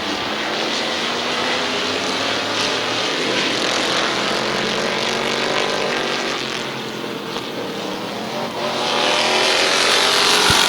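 Stock cars racing around the Midvale Speedway oval, a loud continuous engine roar that swells and fades as packs of cars pass close by, with no talk over it.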